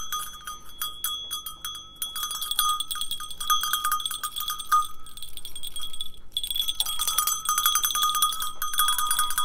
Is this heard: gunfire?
no